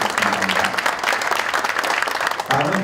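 An audience claps loudly and continuously at the launch ceremony of a Korean political party committee, dense steady applause filling the whole stretch, with a brief voice at the end.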